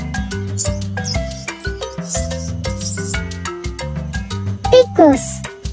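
A mouse gives a quick run of high, thin squeaks near the end, brief and fairly loud over the steady background music that fills most of the clip.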